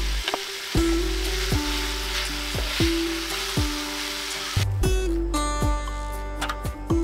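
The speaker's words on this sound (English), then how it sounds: "we want to add some slaw to the pan and mix it up until it's slightly softened" Pork and shredded slaw are stir-fried in a pan, giving a loud, continuous sizzle with bursts of scraping and tossing as the mix is stirred. The frying intensifies partway through.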